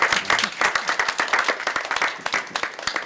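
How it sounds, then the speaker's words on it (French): Audience applause for young opera performers, a dense run of clapping from a close crowd lasting throughout at steady loudness, with faint voices underneath. "Je crois que même on peut applaudir les musiciens."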